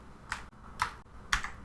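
Three separate clicks of keys being pressed on a computer keyboard for a shortcut, evenly spaced about half a second apart, close and fairly quiet with no talking.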